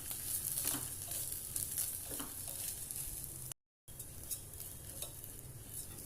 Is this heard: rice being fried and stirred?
yes